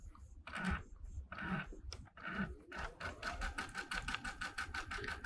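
A sewing machine stitches a quilt along the seam line, running in several short bursts with pauses before settling into a steady, fast mechanical rhythm close by.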